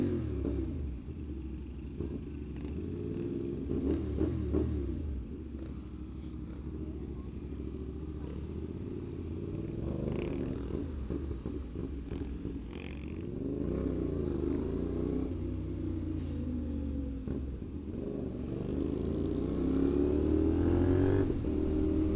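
A 450 SR/SS motorcycle is ridden along, its engine giving a continuous low rumble with gentle rises and falls in revs and steady wind rush throughout the ride.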